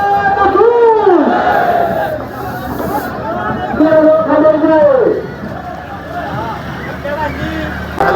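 Large festival crowd packed around the chariot procession in Satana, a dense babble of many voices with shouts and calls rising and falling throughout, loud and close.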